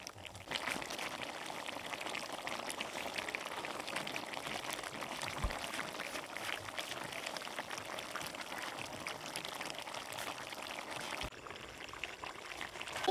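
Duck meat, a Chinese duck cooked village-style as curry, sizzles and bubbles steadily in its released juices in the pan, a continuous close hissing sputter with no talking.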